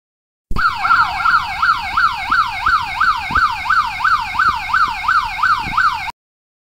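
An electronic mechanical-style siren wails in a fast, steady up-and-down sweep, loud and close, running continuously for several seconds on its own with no talking.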